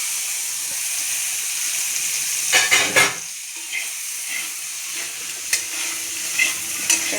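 Tomatoes frying in a pan with a steady close sizzle, broken by a few scraping stirring strokes and small bubbling pops, no talking.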